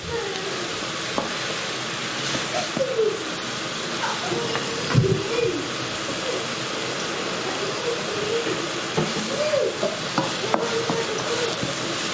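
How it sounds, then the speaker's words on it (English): Onions frying with bay leaves and cardamom seeds for a BIR chicken rogan josh, stirred in the pan with a steady sizzle, scraping spoon strokes and occasional clatter, fairly close. "Mixing all the onions with the bay leaves and the cardamom seeds."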